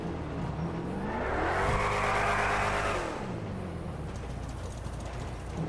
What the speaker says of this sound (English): I love that idle sound though, because this just sounds like the engine is a beast.